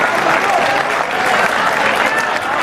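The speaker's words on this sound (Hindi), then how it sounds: "तालियां कम आ रही हैं" An audience applauds steadily at a Hindi poetry and song recital, a dense close wash of clapping that holds evenly throughout with a crowd murmur mixed in.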